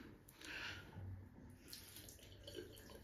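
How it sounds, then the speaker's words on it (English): Tap water runs steadily at a sink while a safety razor head is wetted before a shave, a soft continuous wash with a few brief splashes and no talking. "I just wet the razor head a bit"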